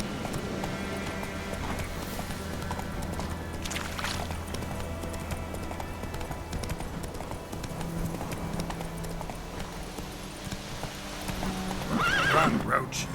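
Hoofbeats of Roach, a horse in The Witcher 3, clop rhythmically through the clip, with a horse whinny and sustained game music underneath, building louder near the end.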